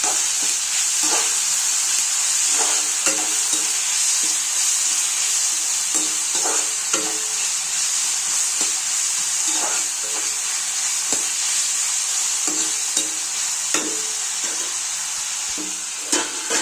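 Chopped tomatoes sauté in a pan for brinjal chutney: a continuous close sizzle broken by regular clacks and scrapes of a spatula stirring, with no talking.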